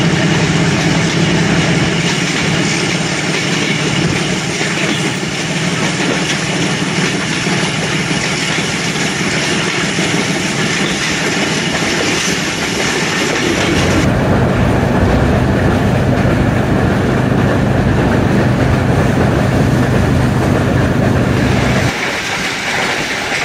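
Thal Express passenger train running at night through a series of tunnels: loud continuous rumble and rail roar throughout, with the tone shifting abruptly as it passes into and out of tunnels.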